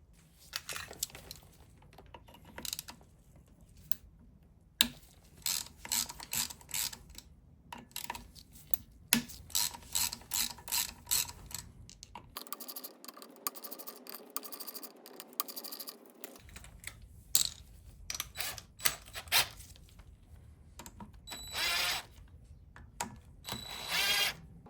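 A ratchet with an Allen key bit loosens the clutch cover bolts on a Suzuki V-Strom 650, giving repeated bursts of quick metallic clicking with brief pauses between them, close and fairly quiet, with no talking.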